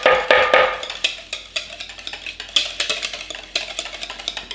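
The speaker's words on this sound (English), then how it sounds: "we want to mix this until we incorporate the butter" Spoon stirring a thick corn pudding mixture to work in butter, with repeated wet scraping and clinking strokes against the bowl, fairly close and steady, no talking.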